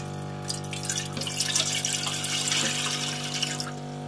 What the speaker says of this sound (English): Remember, the water is lukewarm water. So I'm going to be pouring it in to the container.